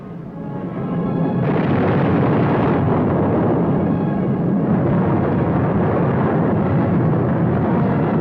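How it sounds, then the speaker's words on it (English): A continuous, heavy roar of World War II parachute fragmentation bombs dropped by B-25s rolls on without pause, loud and rumbling, with a thick low-end boom that swells and stays dense. "Parachute fragmentation bombs, because of their delayed explosions"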